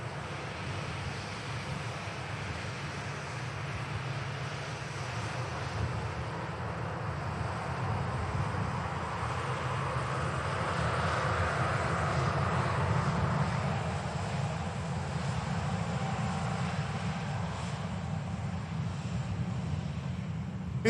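Aircraft at Manchester Airport: a steady, broad engine roar that swells slightly midway, heard from a distance with wind-like noise and no voices.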